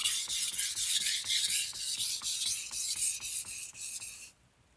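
A Japanese knife is sharpened on its second side, giving rapid, rhythmic, gritty rasping strokes on a whetstone, close and steady, before stopping abruptly.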